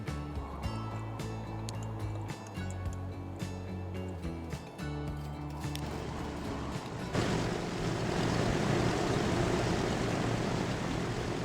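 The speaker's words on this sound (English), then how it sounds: "Look at that, our plane in the air, flying over" An airplane flies overhead in the video game Transport Fever, a broad steady roar that rises suddenly after background music and holds loud and continuous.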